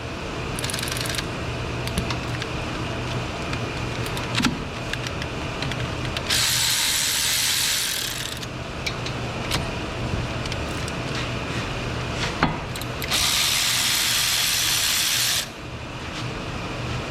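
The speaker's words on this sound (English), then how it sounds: "let's go ahead and remove the caliper. It's held on by 2 14mm bolts" Ratchet wrench loosening 14mm brake caliper bolts on a Nissan Versa: two long bursts of rapid, close, loud clicking over a steady background hum, with scattered clanks of tools between them.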